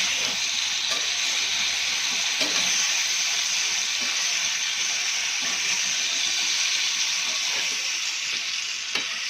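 Rajma masala gravy cooking on a low flame gives a steady, even sizzle and hiss throughout, with faint soft scrapes of stirring underneath and no talking.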